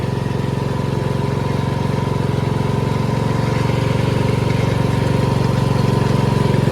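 A car engine idles after carburetor and fuel line repair, a loud, continuous close-up rumble with a pulsing, slightly uneven beat and no voices.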